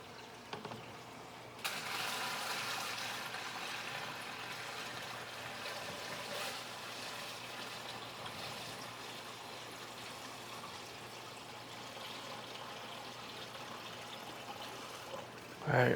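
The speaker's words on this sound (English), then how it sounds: "And I'm gonna go ahead and start adding some of this water." Water poured from a bucket into a sand-bottomed home aquarium, a steady splashing, gurgling pour that starts abruptly and runs continuously at close range with little variation.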